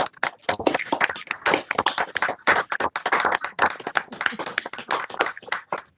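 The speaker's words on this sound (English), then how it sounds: "we do a quick round of applause" Participants on a video call unmute for a quick round of applause, producing a dense, steady patter of many overlapping hand claps at close range, compressed and choppy through the call audio, with no talking.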